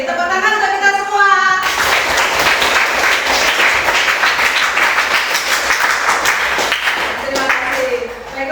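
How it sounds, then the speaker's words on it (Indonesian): Classroom children clap together in a loud burst of applause right after a teacher's voice, with the clapping sustained for several seconds before fading back into someone speaking. "Tepuk tangan untuk kita semua."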